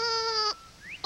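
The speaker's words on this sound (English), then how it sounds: "You helped Baby find the sheep" A sheep gives a loud, close bleat that breaks off, followed by a short quiet gap, a faint rising chirp and the start of another bleat.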